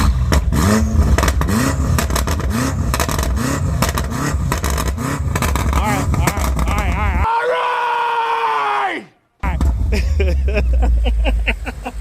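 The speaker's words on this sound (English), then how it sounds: "Now you should hear pops." A BMW M3 and M5 with Super Sprint downpipes revving hard: loud, close engine roar with rising and falling revs, a brief cut to near silence, then more roaring with people talking over it.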